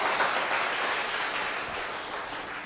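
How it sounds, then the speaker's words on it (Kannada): A church congregation applauding the Lord after a prayer, a steady wash of clapping hands that stays even and fairly loud throughout, with no voices over it. "ಒಂದು ಜೋರಾಗಿ ಕರ್ತನಿಗೆ ಒಂದು ಚಪ್ಪಾಳೆ ತಟ್ಟಿದೆ"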